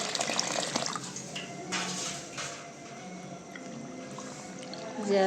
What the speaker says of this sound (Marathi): आपण ह्याच्यामध्ये पाणी घालून घेऊ